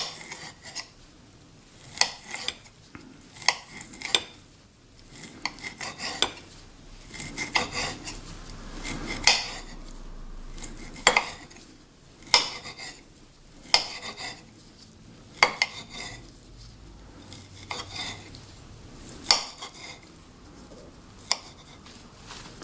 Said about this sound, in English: cut the pieces kind of small, because they will just fit in the omelet a lot better